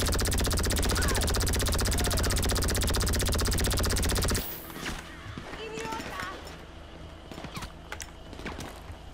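Rapid machine gun fire in GTA 5 Online, a dense continuous burst for about four seconds that cuts off abruptly, followed by quieter scattered game sounds and occasional clicks.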